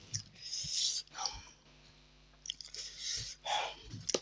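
Close, wet chewing and biting on fish and chicken curry with rice, in bursts of smacking mouth sounds separated by brief pauses, with no talk.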